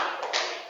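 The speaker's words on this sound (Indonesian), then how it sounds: "tepuk tangan untuk kelompok Kaisa" Classroom applause for a student group, a short, close burst of many hands clapping together as a dense patter that fades out quickly.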